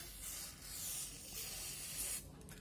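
Aerosol injector cleaner sprays in close, continuous hissing bursts around the headlamp lens seams of a Yamaha Aerox scooter, loud and steady with slight surges and no talking.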